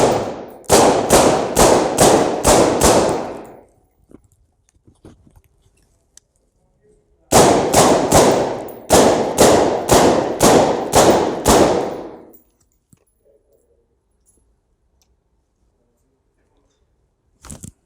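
Gunshots crack out during a dynamic close-quarters shooting drill, two quick strings of about seven sharp, loud reports each, separated by a few seconds of near silence.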